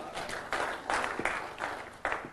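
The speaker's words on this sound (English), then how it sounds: "Whoever he is, he just got applause" An audience applauding during an aviation talk on control malfunctions and flight instrument anomalies, a sustained burst of many hands clapping that swells and fades in waves, moderately loud with no voices over it.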